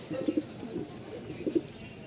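Pigeons kept in a loft coo softly, giving a few low, throaty coos in two short groups over faint background noise.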